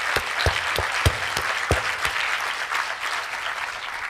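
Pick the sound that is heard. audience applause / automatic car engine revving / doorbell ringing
audience applause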